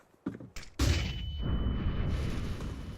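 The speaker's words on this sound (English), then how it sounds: "Flashbang." A flashbang grenade going off in Counter-Strike 2: a couple of small clicks, then a sharp loud bang followed by a sustained ringing hiss that lingers.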